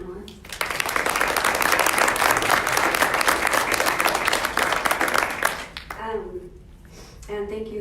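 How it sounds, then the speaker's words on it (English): A community audience at a safety and violence prevention panel gives the panelists a round of applause, a loud sustained burst of many hands that swells for about five seconds and then fades as a speaker resumes talking. "Round of applause for our panelists."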